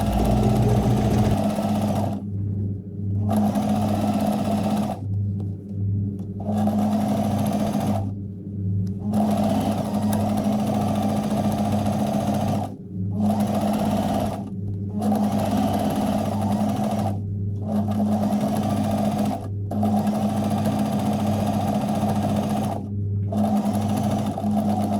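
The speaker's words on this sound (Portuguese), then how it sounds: "Vou costurar toda a volta, não deixo nenhuma abertura." A sewing machine runs in steady bursts, stitching all the way around a postman-style bag with a 2.5 stitch length, with brief pauses between runs and no talking.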